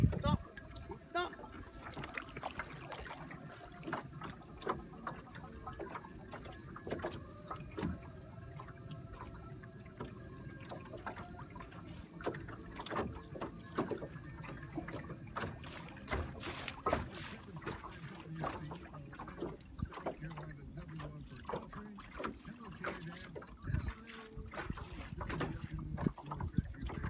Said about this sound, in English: There comes another boat. Bass boat,